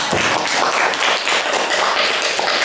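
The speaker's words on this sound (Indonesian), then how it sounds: "Beri tepuk tangan untuk kelompok 3" A classroom group claps for group 3 after their presentation on fractions, a dense, steady patter of many hands filling the room with no talk over it.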